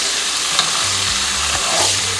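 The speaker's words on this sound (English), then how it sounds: "while you're frying up the chicken," Chicken pieces fry in hot oil for Jamaican stew chicken, giving a loud, continuous close sizzle with scraping stir strokes of a utensil in the pan.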